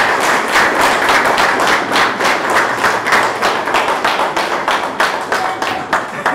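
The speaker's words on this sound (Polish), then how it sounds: "Brawa." A gathering at a hunting club's 65th anniversary bursts into loud applause, many hands clapping in a dense, slightly rhythmic patter that holds strong for several seconds before easing off a little.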